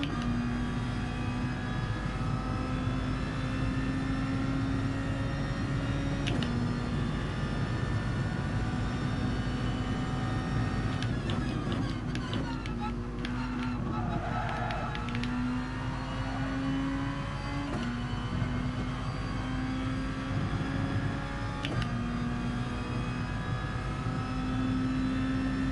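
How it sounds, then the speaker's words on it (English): Car engine in Gran Turismo Sport droning steadily from the cockpit view, its pitch climbing and then stepping down at several clunky gearbox upshifts, loud and continuous throughout. "Clunky sounding up changes on the gearbox."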